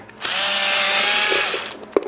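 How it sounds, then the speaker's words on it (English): A speed drill backs 10-24 screws with 3/4 inch washers out of a radio bracket on a Biketronics RadioWrap for a Sony AX7000, one steady loud whir lasting over a second, then a brief clatter as it stops. "speed drill and pull these 1024s out with the 3/4 inch washers."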